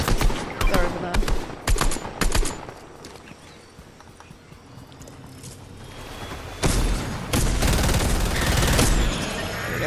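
Bursts of combat assault rifle fire in the Fortnite battle royale game, rapid crackling volleys early on, a quieter lull, then sustained loud shooting and action noise toward the end, with a voice talking over the gameplay.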